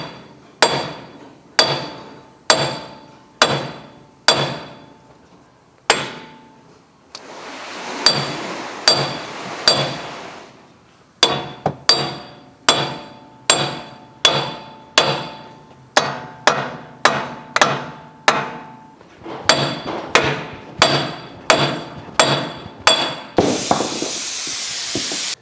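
Repeated sharp metal hammer blows on a hub puller tool, working to free a car's wheel hub; steady rhythmic strikes with ringing clinks, close and loud, with brief pauses and a hiss near the end.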